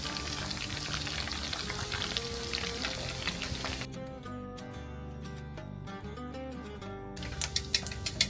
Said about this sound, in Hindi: Let's just fry a little more.